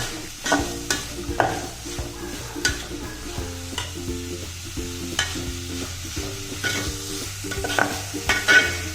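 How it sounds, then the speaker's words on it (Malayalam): Onions with a pinch of salt sauté in a pan, a soft continuous sizzle punctuated by regular clinking scrapes of a spoon stirring against the metal, close and fairly quiet. "ഈ ഉള്ളി ഒന്ന് പെട്ടെന്ന് വഴണ്ട് വരാൻ ഞാൻ ഇച്ചിരി ഉപ്പ് ചേർക്കുവാണ് അതിനകത്ത്."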